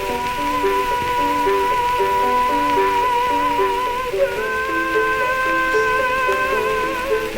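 Archival recording of the last papal castrato, singing a high sustained vocal line with wavering pitch over a steady hiss and orchestral or piano-like accompaniment, continuous throughout.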